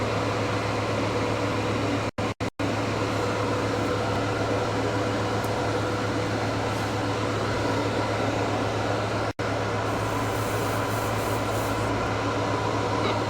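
An airbrush with a 0.5 needle and round cap sprays metallic gold paint straight from the bottle, a steady loud hiss of air and spray running continuously with a few brief cut-outs.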